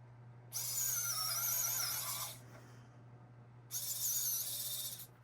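A small drill boring a hole through polymer clay, a high whining bit running in two steady bursts of roughly two and one-and-a-half seconds with a quiet pause between, close and without talk over a low constant hum.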